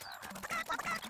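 Chickens cluck in the farming video game The MachinEGG, a short quiet burst of several quick clucks and squawks.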